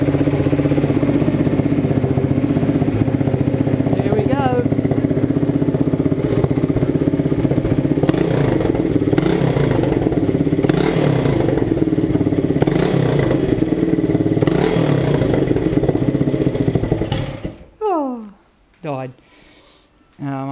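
A 1972 Honda SL125 motorcycle engine runs with a loud, close, steady single-cylinder putter and light mechanical clatter, then cuts out near the end while someone talks briefly.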